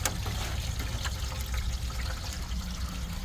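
Water trickles and splashes steadily from a downspout extension, running out away from the house outdoors, a continuous close pouring sound with no talk.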